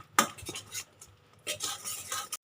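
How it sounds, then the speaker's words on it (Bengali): Spices fry on medium flame for a gram flour dish while a spoon stirs them around the pan. Scraping comes in two close bursts separated by a quieter sizzle. "এবারে এই সব মশলাগুলো বন্ধুরা আমি দু মিনিট মিডিয়াম ফ্লেমে ভালো করে কষিয়ে নেবো"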